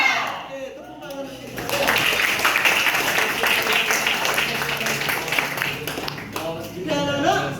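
A room of schoolchildren in a science class breaks into steady clapping after singing, the dense applause running for several seconds amid chatter before voices return.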